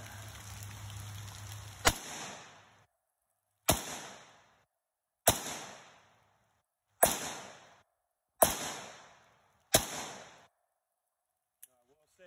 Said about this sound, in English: Now I'm gonna fire it.